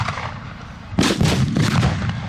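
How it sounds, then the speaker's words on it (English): Mortar rounds explode at a battle reenactment, a sudden loud blast followed by a rapid string of sharp booms and cracks that echo across the field. "Some more mortars coming in"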